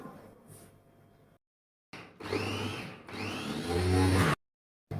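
An electric food chopper whirs in short bursts as it blends onion for hawawshi, with a brief pause between pulses and the motor growing louder and rougher toward the end before cutting off abruptly.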